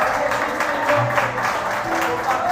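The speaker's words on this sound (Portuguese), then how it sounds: "Você pode aplaudir a Ele, pelo amor de Deus." Church congregation clapping together in steady, continuous applause during a worship service, with some voices mixed into the crowd noise.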